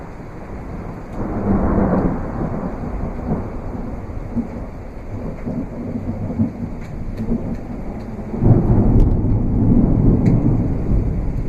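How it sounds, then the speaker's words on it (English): An evening February thunderstorm with steady rain and deep rolling thunder that swells in two long rumbles, loud and continuous with no voices. "Nice little evening thunderstorm in February"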